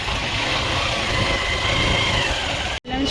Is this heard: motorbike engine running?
yes